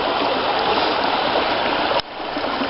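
A river coursing down over a bed of big rocks on shale or slate bedrock, a steady full rushing roar of water that drops slightly in level near the end.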